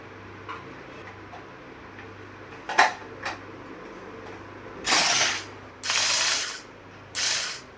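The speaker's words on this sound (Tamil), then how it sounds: "வெங்காயத்தை 2ஆக கட் பண்ணிவிட்டு நம்ம உள்ளே போட்டு இன்றைக்கி ஸ்லைட் பண்ண போகிறோம்." Manual vegetable chopper slicing halved onions, a few quick clicks followed by three loud, rasping ratchet-like pulls of about a second each, close by and with no talking.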